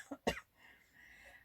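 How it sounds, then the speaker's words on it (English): A woman gives a single sharp cough, a short double burst up close, followed by quiet room tone. "I'm going to cough again"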